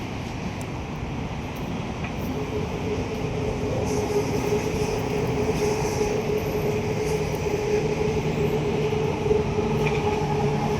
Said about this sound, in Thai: เป็นรถไฟแรงผ่านนะ